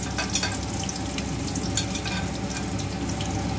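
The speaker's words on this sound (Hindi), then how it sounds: "प्याज को इसमें तल लेते हैं।" Chopped onion with green chilli frying in oil in a pan for a vegetable dish, a steady close sizzle with crackling pops throughout and no voices.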